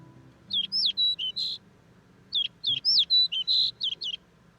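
A great grey shrike calls in two bursts of sharp, repeated chirping notes, clear and fairly close, with a pause between phrases.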